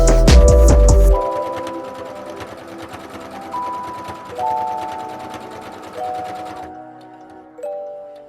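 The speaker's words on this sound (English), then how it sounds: "I'm gonna just take this top piece with our flannel to the sewing machine" After a loud thump, a sewing machine stitches flannel for a reusable face mask at a 3.0 stitch length, with a fast, even rattle, while soft tonal music plays faintly in the background.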